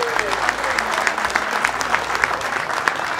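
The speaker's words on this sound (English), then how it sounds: "Give this round a round of applause" Audience applause fills a bass fishing tournament award ceremony as a winner is called up for the Big Fish Trophy, steady dense clapping throughout with crowd noise and a voice faintly under it.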